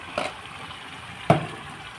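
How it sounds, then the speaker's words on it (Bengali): Chopped bottle gourd tipped into a pot of cooked meat, giving two short splashy thuds a second apart followed by a faint sizzle, with no talking. "লাউটা আমি ঢেলে দিলাম"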